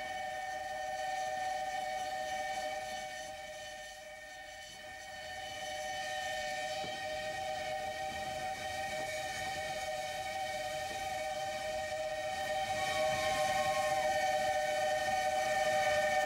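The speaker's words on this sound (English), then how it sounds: "the Khyber train has to pass through the market area to get to Jamrud" The Khyber train rumbles steadily at a distance through a market area in Pakistan, with a sustained whistle-like tone droning throughout, fairly faint and continuous.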